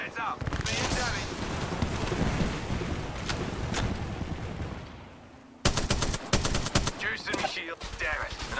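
Apex Legends gunfire crackles in dense automatic bursts, first a sustained barrage and then sharper, louder rapid volleys after a brief lull, with a player talking over the shooting.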